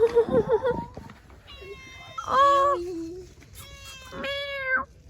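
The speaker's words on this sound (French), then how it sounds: "T'as passé une bonne nuit, petit chat." A small-town cat meows several times, drawn-out, fairly close and moderately loud, with a brief burst of a person talking at the very start.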